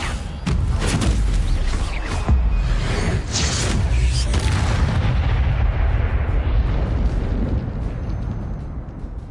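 Incendio fire spell cast in a Hogwarts video game, a loud burst of fiery whooshing and booming blasts with sharp crackles, sustained for several seconds before gradually fading.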